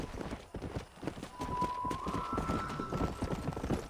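A horse gallops in Red Dead Redemption, its hooves beating a quick, steady clip-clop rhythm throughout, with a brief whistle-like tone partway through.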